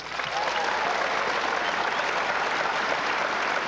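A live studio audience in Iowa bursts into applause, a dense, steady wash of many hands clapping that starts almost at once and holds at an even, fairly loud level throughout, with no speech over it.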